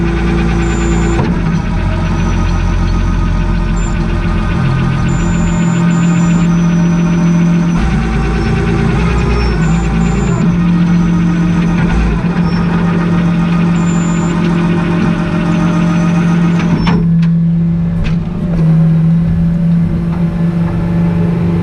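A car engine runs loudly and continuously close by, with a steady idling hum and a slight change in tone as the vehicle moves forward.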